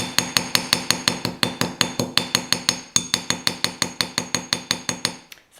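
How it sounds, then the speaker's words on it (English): A small ball peen hammer taps the edges of a chunky wire rose, about thirty bright metallic ticks in an even, quick rhythm, close and alone. "take the little ball peen end of my small hammer, and I'm just going to give it a little tap all the way around the edges"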